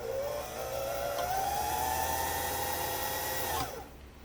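A Singer 328k sewing machine winds a bobbin in a steady whirring hum, rising slightly in pitch before cutting off near the end, close and alone.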